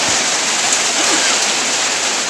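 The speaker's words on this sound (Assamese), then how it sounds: "এয়া চাওক, বৰষুণ পৰি আছে" Steady rain falls at a Basudev Panchadham ashram under construction, a dense even hiss of drops with no breaks, close and fairly loud throughout.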